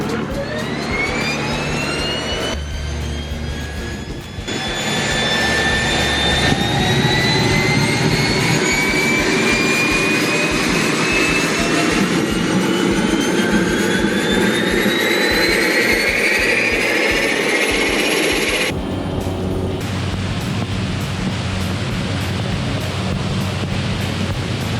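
Cessna Caravan single-engine turboprop airplane running steadily in flight, a loud continuous engine roar with rising whine tones that holds throughout, no talking.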